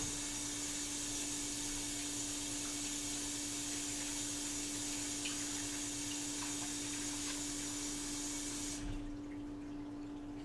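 Water runs steadily while cooking gear from a sous vide setup is washed down, a constant close rushing with a low hum underneath, cutting off sharply near the end.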